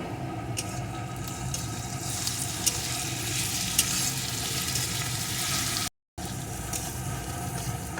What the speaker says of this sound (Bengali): কয়েক কপ থেতো করা রসুন এখন রসুনটাও একটু ভেজে নেব